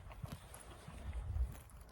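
Hooves of a horse clip-clopping in a rural barn setting, a few irregular thuds and knocks at close range, fairly quiet with a heavier cluster of steps near the end.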